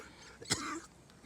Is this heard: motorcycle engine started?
no